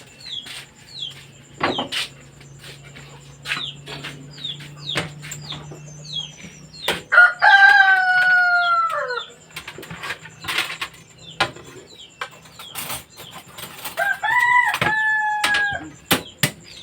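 Chickens cluck in short bursts, with a rooster crowing a couple of times and a few scattered knocks nearby.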